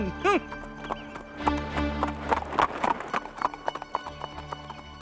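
A horse pulling a tanga cart approaches with a steady clip-clop of hooves that grows louder, with a neigh near the start, under music and voices.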